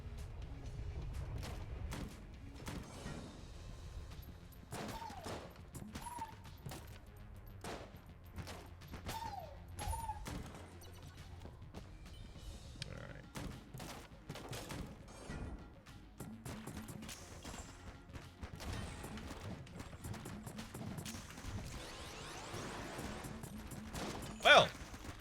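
Rapid automatic gunfire from the Vulcan Cannon in the twin-stick shooter game Enter the Gungeon, a dense stream of shots with crashes and booms layered under game music throughout.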